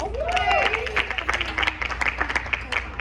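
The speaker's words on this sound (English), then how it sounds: "Please give a round of applause" Audience applause at a web panel for the Haitian-American Chamber of Commerce of Florida, scattered clapping rising under an announcer's voice as a panelist is introduced.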